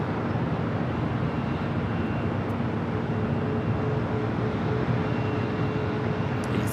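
An Air France A350 departs at LAX at night, a dense steady engine roar with a faint low hum, continuous and unvarying with no talk.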